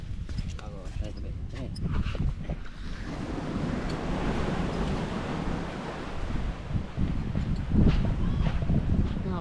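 Sea waves wash onto the shore under gusty wind buffeting the microphone, a broad continuous roar with swells building and easing, while people talk over it.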